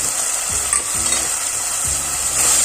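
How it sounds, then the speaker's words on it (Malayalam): Tomato, crushed ginger and garlic stirred in a pan of hot oil for a jackfruit curry, with a steady close sizzle and several soft scraping strokes of the spoon, no talking. "നന്നായിട്ടൊന്ന് മിക്സ് ചെയ്ത് കൊടുക്കാം"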